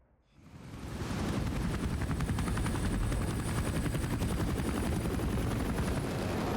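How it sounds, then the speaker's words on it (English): A helicopter in Metal Gear Solid V: The Phantom Pain spins up and flies, its loud rapid rotor chop swelling in within the first second and then holding steady and close, with no talking. "let's make the stealthiest approach in our salmon pink helicopter"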